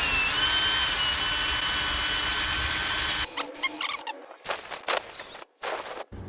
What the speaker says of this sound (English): So all I'm going to use is this wire brush in my drill.